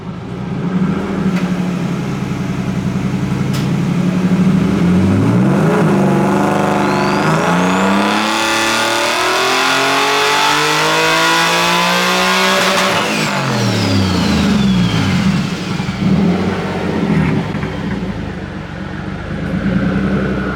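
A turbocharged, engine-swapped Nissan S15 accelerates hard, its engine note climbing steadily through a long pull, then dropping and building again, loud and close throughout.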